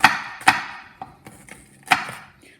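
Knife chopping green bell pepper on a cutting board, several sharp, close knocks at uneven intervals, two heavier strikes followed by lighter taps and a final firm chop, with quiet gaps between.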